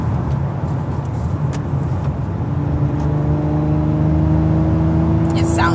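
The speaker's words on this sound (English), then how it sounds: "So this is a Nismo Sport prototype exhaust." A 2023 Nissan Z fitted with a Nismo Sport prototype exhaust hums and accelerates from inside the cabin, a steady rising engine drone with a climbing tone under continuous road noise.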